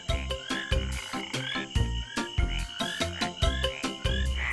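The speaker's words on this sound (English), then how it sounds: "green tree frogs are sometimes known as rain frogs" Green tree frogs, also called rain frogs, call in the wild with loud, repeated croaks in a steady rhythm, each burst sharp and close, with no voices over them.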